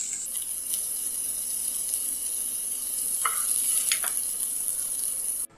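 Soya chunks fry in hot oil in a kadhai over a medium flame, giving a steady, close sizzle throughout with a few faint clinks of stirring.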